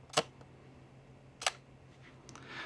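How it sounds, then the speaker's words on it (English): Two sharp mechanical shutter clicks about a second apart from a Nikon Z6III mirrorless camera, close and crisp, as the shutter deploys when the camera is switched on and off, followed by a faint whirring and small clicks. "It seems to make a noise like it's deploying the shutter when you turn it on and off"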